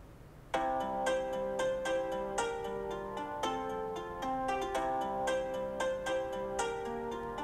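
A mobile phone plays a melodic ringtone during a Vietnamese drama scene, with bright repeated notes that start abruptly and ring on steadily and loudly. No one speaks over it.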